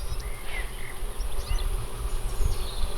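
Insects buzz and chirp steadily outdoors beside a carp fishing lake in France, with faint, scattered bird calls over a constant hissing background.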